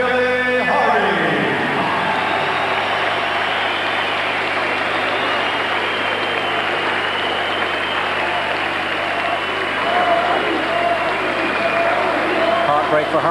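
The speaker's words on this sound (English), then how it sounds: "a round of applause, please, for this young man who came here to challenge tonight" An audience applauds and cheers steadily in a large hall at a 1997 boxing match, a continuous wash of clapping with a low rumble underneath.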